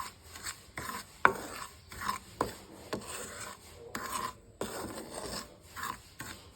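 Rice flour being stirred and dry-roasted in a pan, giving soft, intermittent scraping and rasping strokes at close range with short pauses between them and no voices.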